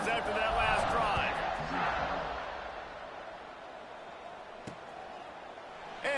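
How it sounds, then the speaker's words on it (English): Stadium crowd at a College Football 26 game between Ole Miss and Vanderbilt roars loudly at first, then settles into a steady broad wash of cheering, with a commentator's voice over it. "this crowd is feeling themselves after that last drive"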